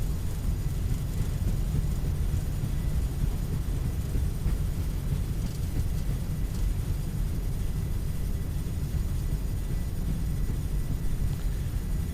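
An airliner in a flight simulator uses reverse thrust during the landing rollout on Düsseldorf runway 23L, giving a loud, constant low roar and rumble with no pauses.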